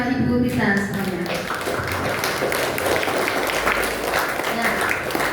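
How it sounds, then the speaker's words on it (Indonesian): Audience clapping at a school anti-narcotics outreach event in a hall, a steady patter of many hands filling the room, while a voice talks over it at the start. "Beri aplaus pada Ibu kita semuanya."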